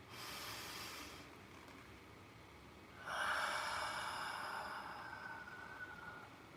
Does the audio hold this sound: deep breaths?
yes